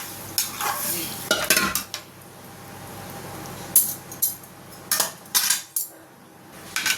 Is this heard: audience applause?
no